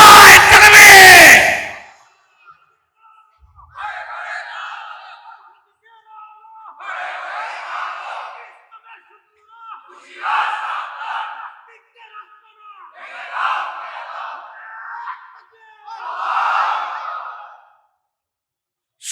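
A crowd at an Islamic religious gathering roars back a takbir response, a loud opening shout followed by five rhythmic, evenly spaced chanted bursts of massed voices with short silences between them.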